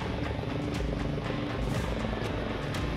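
A helicopter hovers close overhead while hauling big bags of rock to a viaduct repair site, its rotor throbbing loudly and continuously with rhythmic blade chops and engine whine.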